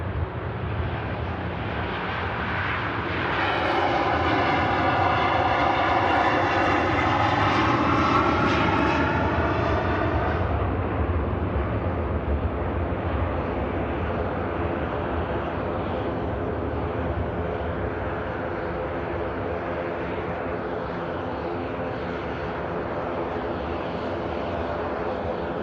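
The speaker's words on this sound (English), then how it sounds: "Virgin Airbus A330 next to go." A Virgin Airbus A330 taking off at Manchester Airport, its engines building into a loud, sustained roar that peaks and then settles into a steady rumble at moderate distance, with no talking.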